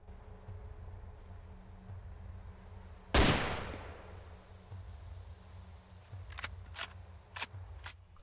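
A single sharp gunshot cracks out in DayZ, loud and sudden against a low ambient hum, followed a few seconds later by a quick cluster of fainter, distant shots.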